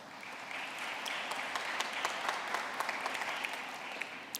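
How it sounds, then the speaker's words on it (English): Graduates applaud at a 2021 undergraduate business school commencement ceremony, a steady, dense wash of clapping from a large crowd that holds evenly throughout, heard from a moderate distance. "Give yourselves a round of applause."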